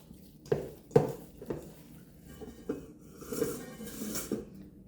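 Olive and cheese bread dough is mixed in a bowl, giving soft squishy stirring and occasional knocks of the utensil against the bowl, close and fairly quiet, with no talk.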